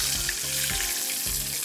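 Crab frying in moderately hot oil, a dense, steady sizzle and bubbling heard up close and continuous throughout, with occasional stirring sounds and no speech.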